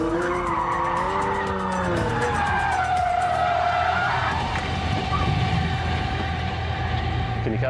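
A car is driven fast into a corner and skids, tyres squealing loudly for several seconds over steady engine roar, with the squeal fading and fresh engine noise taking over near the end.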